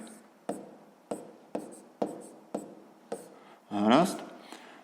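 Pen taps and short strokes mark a steady rhythm of about six distinct touches as math fractions are written by hand on paper, ending with a brief voiced sound.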